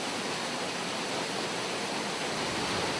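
A waterfall on Vancouver Island, at a salmon river, roars as a dense, steady rush of falling water, close and unbroken, with no voices.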